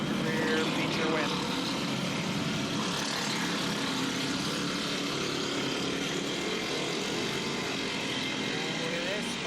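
Small go-kart engines rev and whine continuously through a backyard dirt-track feature race, a dense steady roar of several motors close by with voices talking over it.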